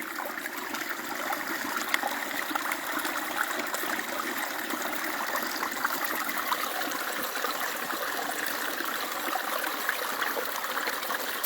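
A forest stream runs steadily in a frosty winter woodland, a continuous close rushing and trickling of water with no voices, even in level throughout.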